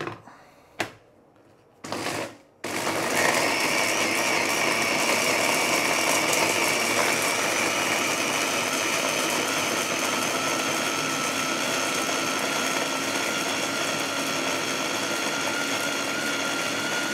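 An electric kitchen chopper blends chili, prawn shells, garlic, shallots, dried shrimp and a little water for sambal prawns. A few brief clicks open it, then a steady, loud motor whir runs continuously to the end.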